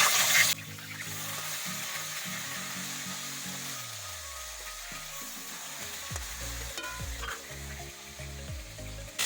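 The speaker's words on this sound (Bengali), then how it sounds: "তো মাছগুলো ভাজা হয়ে গেছে এখন উঠাই দেবো" Bata fish frying in oil, a constant bright sizzle that flares loudly at the start, then continues steadily while low utensil knocks and scraping sound beneath it.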